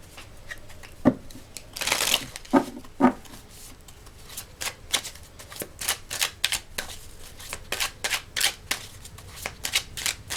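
Tarot cards are shuffled by hand in a run of crisp, riffling flicks and soft slaps, close and fairly quiet, with no talking.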